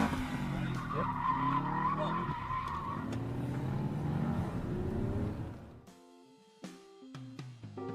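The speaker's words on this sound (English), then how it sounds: "floor it through cones trying not to spin out my car" A car skids and its tires squeal during an autocross run through cones in a large parking lot, a loud sustained screech with engine roar for several seconds before music takes over.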